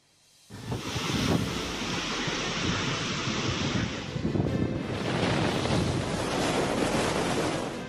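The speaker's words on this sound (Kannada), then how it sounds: "ದಡದಲ್ಲಿ ರಕ್ಕಸ ಅಲೆಗಳ ಆರ್ಭಟ" Ocean waves crash and roar continuously against the shore during Cyclone Montha, with gusty wind noise, starting after a brief quiet moment.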